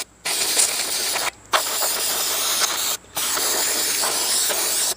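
High-pressure aerosol spray blasts onto the tube sockets of a 1961 Seeburg AY100U jukebox in several loud, close bursts separated by brief pauses.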